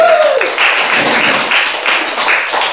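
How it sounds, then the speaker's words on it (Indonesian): Students applaud together in a classroom during a primary-school fractions lesson, a short burst of steady, dense clapping that fills the room, with a brief voice heard at the start. "Ya, tepuk tangan dulu."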